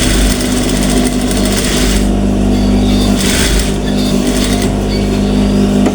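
Sewing machine stitching a blouse, a loud continuous mechanical whir with fast rhythmic needle clatter that pauses briefly twice, close to the microphone.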